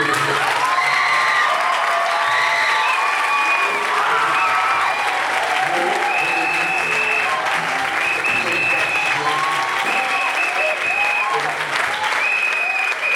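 At a Christian conference, a large audience applauds continuously with scattered cheers and whoops, loud and close throughout with no break.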